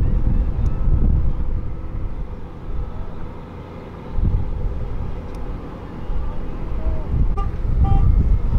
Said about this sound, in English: Change of shift, so you hear a lot of trucks.